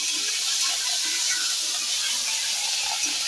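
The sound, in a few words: ginger and cumin frying in a wok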